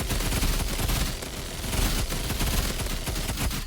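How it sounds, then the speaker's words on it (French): A minigun fires nonstop in a video game, a loud, dense, rapid stream of shots that runs almost the whole time with only a brief dip in intensity. "maintenant nous allons faire place au minigun. Le minigun, s'il y a bien une arme de spam, c'est vraiment celle-ci."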